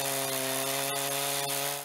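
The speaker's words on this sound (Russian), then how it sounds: "Бензопила – лучший друг художника по дереву." A chainsaw cuts into a wooden log being carved into a figure at a craft park in Irkutsk. The engine drones loudly and steadily close up, with no talk, and cuts off abruptly at the end.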